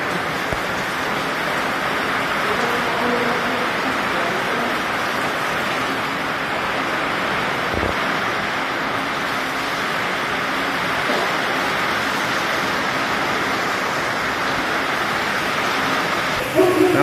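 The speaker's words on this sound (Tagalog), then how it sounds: "Malakas ang ulan, malakas ang hangin" Heavy rain and strong wind outside a coffee shop make a steady, dense roar of water and gusts that holds unbroken and loud for the whole stretch, with no break in the downpour.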